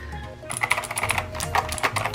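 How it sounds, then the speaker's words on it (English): Typing on a Razer computer keyboard at a desk, with a steady run of quick, close key clicks and clacks that starts about half a second in and continues throughout, with no voices. "It's a Razer keyboard."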